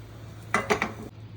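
A spoon scrapes and clinks against a metal pot three or four times in quick succession, close by, with no talking, as bottle gourd yogurt curry is mixed.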